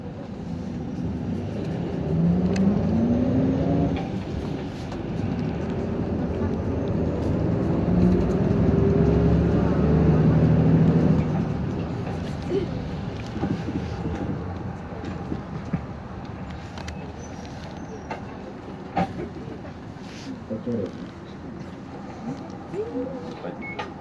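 Nagoya city bus on route Kanshin-Mizuho 1 pulling away from Aratamabashi and driving on, a steady low engine and road rumble from inside the cabin, swelling early then settling, with occasional faint clunks and brief murmured talk.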